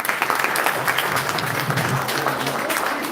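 A crowd at an international Kreol language day event claps steadily, a thick continuous wash of applause with a few sharper individual claps and a faint murmur underneath.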